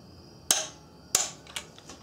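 A torque wrench on a Subaru 2.5L engine clicks sharply twice, followed by two fainter, lighter clicks, as a part is tightened to 30 foot-pounds; close and without talk.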